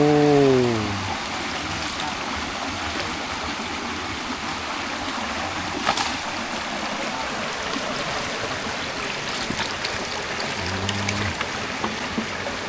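A village stream where water is fetched flows in a steady, close rushing wash throughout, with voices briefly talking at the start and again near the end.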